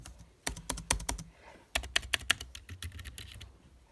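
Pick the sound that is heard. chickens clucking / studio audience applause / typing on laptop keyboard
typing on laptop keyboard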